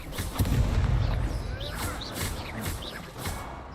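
An Expulso explosion spell in Hogwarts Legacy sets off a heavy, rumbling blast early on, followed by a few lighter bursts and crackling impacts over ongoing game noise, with no talking.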